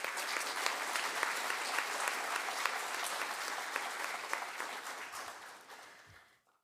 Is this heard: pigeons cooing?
no